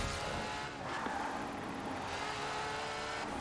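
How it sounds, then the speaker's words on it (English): Steady engine drone from a Ferrari driven in the racing game Forza Horizon 4, a continuous, fairly loud hum holding its pitch throughout with no talk over it. "So we whipped out our Ferrari."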